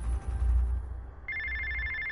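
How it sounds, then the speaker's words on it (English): A telephone rings in the video game inFAMOUS: First Light, a steady electronic trill starting partway through after a low rumble, sustained and clear with no talk over it. "Oh, the phone's ringing."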